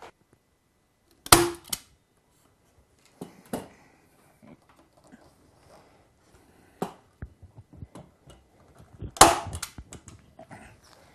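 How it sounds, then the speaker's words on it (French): A staple gun fires staples over a TV antenna cable to conceal it. Sharp, loud snaps sound in an irregular series, with a strong one early and another near the end, and faint handling noises fill the quiet gaps. "vous n'avez plus qu'à appuyer sur la gâchette pour libérer l'agrafe."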